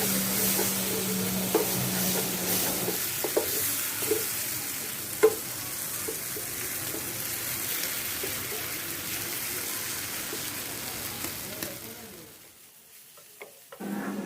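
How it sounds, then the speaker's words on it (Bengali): Water taro (pani kochu) with coconut sizzles in a pan and is stirred now and then, a continuous close frying hiss with light scraping taps that quietens sharply near the end. "এখন আমি মাঝে মাঝে নেড়ে চেড়ে ভাজবো কচুটা কিছুটা শুকনো হয়ে যাওয়া পর্যন্ত"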